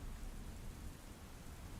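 Steady rain falls around a warm Japanese tea house, a soft continuous hiss with low rumbling texture, even and unbroken throughout with no voices.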